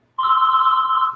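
A telephone bell rings in one sharp, steady, buzzing burst that starts abruptly after a brief silence and holds close and loud for about a second.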